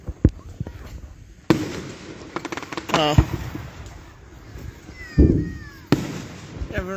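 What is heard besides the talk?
4th of July fireworks show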